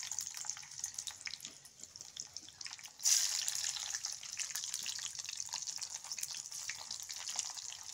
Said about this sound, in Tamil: நம்ம எடுத்து வச்சுருக்கிற வெள்ளைப்பூண்டு அதில் சேர்த்துக்க போகிறோம்